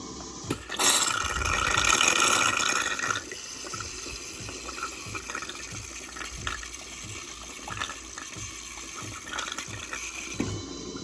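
A DeLonghi Dinamica ECAM 350.75 S coffee machine pours hot water in a hissing stream for a few seconds, followed by quieter trickling and soft mechanical clicks.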